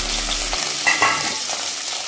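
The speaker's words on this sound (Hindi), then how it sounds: "अब इसमें हम डालेंगे कटा हुआ धनिया, कड़ी पत्ता, जीरा, लाल मिर्ची पाउडर और हल्दी पाउडर।" Cumin, curry leaves, chopped coriander, red chili powder and turmeric hit hot oil for a tempering, giving a loud, dense, continuous sizzle and crackle close by, with no voices.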